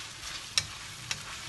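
Noodles frying in a wok with sweet dark sauce, a soft continuous sizzle with two brief scraping stirs, fairly quiet and close.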